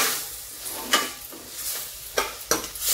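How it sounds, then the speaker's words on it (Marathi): Spices with kasuri methi sauté in a pan on the stove, a soft continuous sizzle broken by a few sharp spoon scrapes, close up and with no talking. "हे सगळं आपण याच्यात घालत आहोत आणि ते छान असं परतून घेत आहोत"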